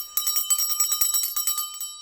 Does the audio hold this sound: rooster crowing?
no